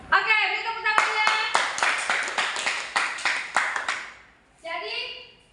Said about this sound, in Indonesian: Oke, beri tepuk tangannya.